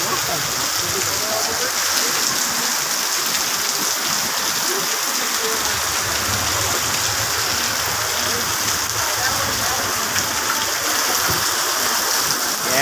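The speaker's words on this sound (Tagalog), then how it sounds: "mataas na yung tubig dito" Floodwater rushing at Palao Market, a constant broadband wash of flowing water that stays loud and steady throughout, with faint voices underneath.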